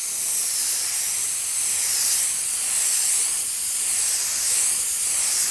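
A spray gun lays a light coat of paint on a car, giving a steady, close airy hiss that swells and eases in gentle passes with no talk.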